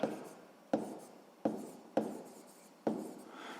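A pen or pencil writes on paper during a sixth-grade maths exercise, making five distinct scratchy strokes, each a sharp onset fading off, close and clear with no talk.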